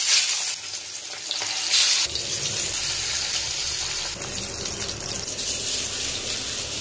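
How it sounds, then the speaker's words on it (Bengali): Onions fry in hot oil in a home kitchen, a steady close hiss and sizzle running throughout with a louder burst near the start. "পেঁয়াজটা এখানে লাল লাল করে ভাজা হয়ে গেছে"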